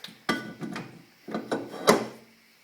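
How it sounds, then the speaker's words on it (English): Several metallic clunks and scrapes of a heavy rear brake rotor sliding onto the hub of a 2002 Subaru Impreza WRX, with short pauses between knocks, close up and fairly quiet. "Ready to mount your rotor."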